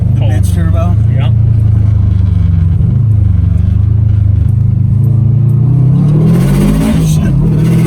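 A small-turbo car accelerates hard in a modified 300+ hp build, with a loud, close engine drone rising in pitch and some rattling inside the cabin while people talk over it.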